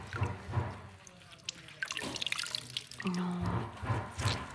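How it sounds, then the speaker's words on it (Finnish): Water drips from a microfiber cloth while a car is washed by the bucket method, a scatter of small splats and trickles close by among light handling noise and faint background sounds, with no talking. "Kato kun se tippuu."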